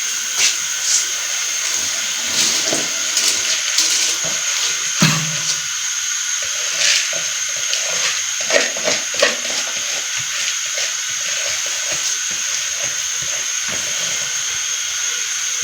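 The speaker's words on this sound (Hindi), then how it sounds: "पानी को बॉयल आ चुका है, तो अभी हम इसमें चावल ऐड करेंगे।" Rice goes into a pot of boiling water for matar pulao, giving a steady loud hiss and bubbling with scattered clinks and splashes, one sharp knock partway through, and no voices.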